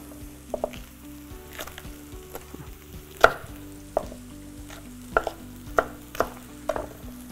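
Irregular knife strikes on a cutting board, sharp taps spaced unevenly over a low kitchen hum, no talking.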